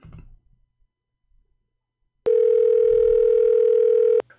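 A steady electronic telephone tone sounds for about two seconds, loud and unbroken, after a quiet stretch with faint voice fragments.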